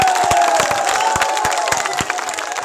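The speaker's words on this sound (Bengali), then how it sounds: "আমরা সবাই মিলে জোরে করতালি।" A crowd at a political rally applauding and cheering, loud clapping and shouts with a sustained tone underneath and a series of regular low thumps.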